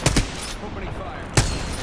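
Gunfire in the game Apex Legends comes in two loud, close automatic bursts separated by a short lull.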